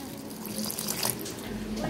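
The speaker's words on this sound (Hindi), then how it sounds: "बीच बीच में मैं पानी भी ऐड करूँगी" Water is poured into Gujarati dhokla batter and mixed in a bowl, making a steady close splashing and trickling sound with a voice faintly underneath.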